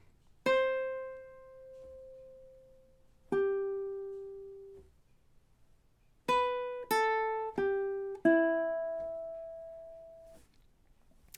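A ukulele picks the opening two measures of the Jamaican folk song Day-O, single plucked notes ringing out clearly and alone, two spaced notes followed by a quicker run of four, each decaying gently.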